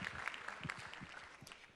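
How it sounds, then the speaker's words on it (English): Audience applause at a conference session, a steady patter of clapping hands spread across the room at moderate volume, continuing for about two seconds without speech over it. "Yes, applause, applause,"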